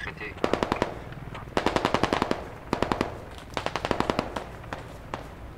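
Bursts of automatic rifle fire in the tactical shooter game Squad, three or four rapid volleys of sharp cracks separated by short pauses, fairly close.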